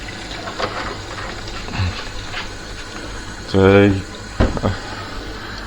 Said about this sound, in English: And now just give it a good few rinses